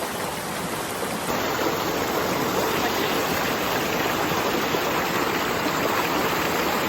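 A waterfall in Kulai, Johor pours with a steady, dense rush of white water, loud and close, with an unbroken even roar throughout and no one speaking.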